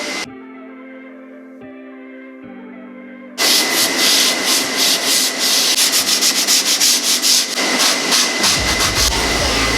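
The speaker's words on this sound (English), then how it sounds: "It's a sand sponge." Sanding sponge rubbing over painted, textured canvas, loud and close with a steady scraping rhythm of quick strokes that starts abruptly after a quieter hum-filled opening.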